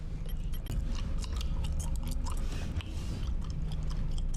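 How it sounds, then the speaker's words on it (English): Wet, rhythmic chewing and crunching of gum, loud and close, with steady repeated mouth sounds and no talking. "Chewing gum."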